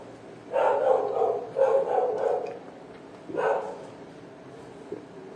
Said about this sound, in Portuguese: Já viram que eu tenho a companhia de um cão hoje aqui latindo, né?